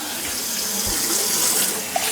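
Warm water runs steadily from a kitchen tap to mix into a big batch of bread dough with yeast, a continuous close splashing stream with no talking.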